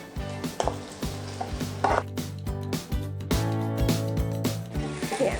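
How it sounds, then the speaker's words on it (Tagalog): Tomatoes and onion sauté in a pan for ginisang ampalaya with sardines, with a close crackling sizzle broken by repeated scraping strokes and clinks of a utensil against the pan in an uneven rhythm. "Gisa lang natin to hanggang sa lumambot yung ating tomato at"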